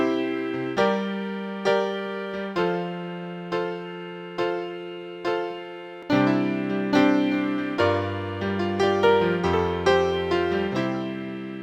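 A chord progression in C plays the I chord, then a minor v chord, then the IV, as sustained, piano-like chords with decaying notes: soft repeated strikes at first, then fuller, louder chords with a moving bass line, with no voices.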